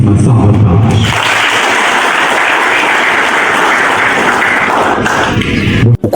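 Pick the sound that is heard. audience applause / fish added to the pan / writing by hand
audience applause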